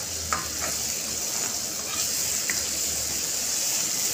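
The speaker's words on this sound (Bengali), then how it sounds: "দিয়ে মোরলা মাছগুলো দিয়ে কষে নিচ্ছি" Mourola fish being fried in a pan with chilli powder, giving a soft continuous sizzle with occasional light stirring clinks, quiet and steady, with no voices.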